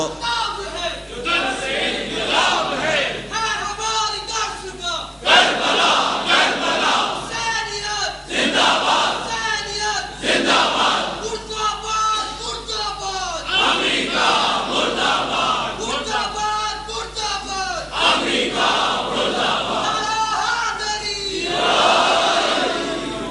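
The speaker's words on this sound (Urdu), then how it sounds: "آپ اتنے نعرے لگاتے مجھے سانس لینے کا موقع مل جاتا ہے" Large crowd at a majlis in Hyderabad, Pakistan chanting slogans in loud repeated bursts, the voices swelling and breaking off in waves with brief pauses between, filling the hall continuously.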